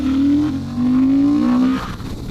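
A 2023 Honda Hornet motorcycle engine booms loud and close in two rising pulls as the rider accelerates, with a short gap between them before the note drops back to a lower rumble.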